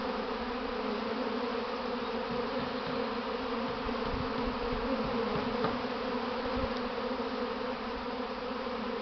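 A honeybee swarm on a late-April day fills the air with a steady, dense buzzing drone, loud and unbroken with no voices over it.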